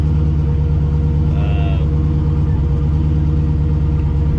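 A Chevrolet Cutlass fitted with a stock Gen 4 LS engine and turbo runs steadily, its deep engine drone loud and close throughout with no speech.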